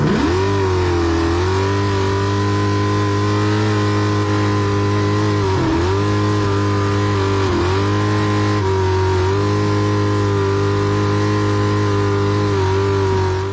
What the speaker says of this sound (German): Wer hätte gedacht, dass ein Motorboot so ein spektakuläres Rennen liefern kann?